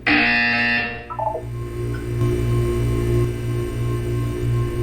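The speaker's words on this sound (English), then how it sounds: "You will hear a buzzer." A loud electronic buzzer blares in Portal 2, a harsh tone lasting about a second before it cuts off into a steady low synthetic hum that carries on to the end.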